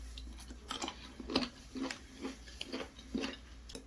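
Close-up chewing of firm abalone, with repeated crunchy bites in an irregular rhythm and no talking.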